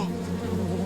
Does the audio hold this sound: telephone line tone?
no